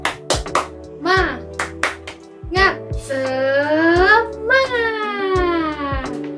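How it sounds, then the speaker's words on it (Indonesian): Classroom of young students doing a rhythmic spirit clap, sharp hand claps in a patterned beat mixed with children's chanting voices and a teacher leading nearby. "Yuk kita tepuk semangat dulu yuk."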